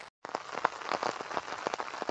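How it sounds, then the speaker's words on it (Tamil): Heavy rain pours down steadily, a dense close-up patter of drops striking a surface that starts suddenly after a short gap and goes on with no one talking. "நம்ம இருக்கக்கூடிய இடத்துல மழை வந்து வெளுத்து வாங்கி வருகிறது"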